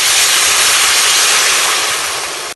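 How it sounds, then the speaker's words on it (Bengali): Water poured into frying spices for a dried tengra fish curry gives a loud, steady, broadband steam hiss that runs throughout and fades slightly at the end, close up, with no voices. "দিয়ে দিব জল"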